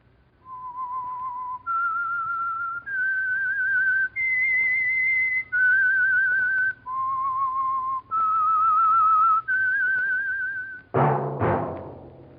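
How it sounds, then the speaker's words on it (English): A melodic whistled theme, the signature of the radio mystery show The Whistler sponsored by Signal Oil, rising and falling in eight clear sustained notes, loud and alone, ending with a brief bright orchestral burst. "That whistle is your signal for the Signal Oil Program, The Whistler."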